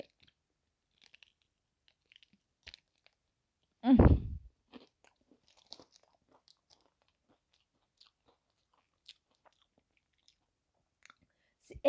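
A single loud crunchy bite into a mint Kit Kat bar, close to the mic, followed by soft faint chewing clicks in near silence.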